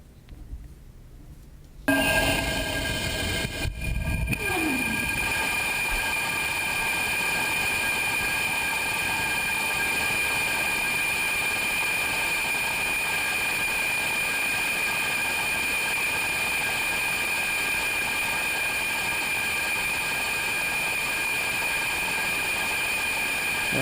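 The Blue Origin BE-3 liquid oxygen/liquid hydrogen rocket engine, rated at 100,000 pounds of thrust, fires on a test stand. A quiet lead-in breaks into a sudden loud ignition, then a sustained, roaring blast that holds steady to the end.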